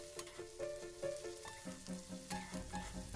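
Cauliflower and prawns fry in a little oil, a soft sizzle with scattered pops and a few clinks as they are stirred in the pan, fairly quiet and without talk.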